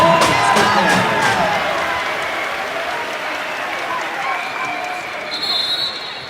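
A basketball arena crowd at an NCAA men's game between North Florida and Florida roars and applauds loudly, the noise swelling then fading while sneakers squeak and a commentator talks over it.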